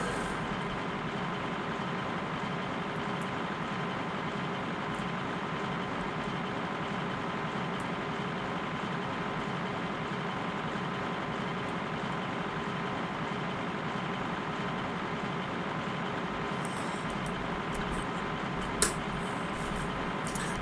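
Tractor engine in Farming Simulator 2013 running steadily during harvest, a continuous droning rumble with a faint click near the end, alone without talk.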